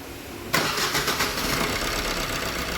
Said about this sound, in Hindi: गाड़ी ओके स्टार्ट हो गई है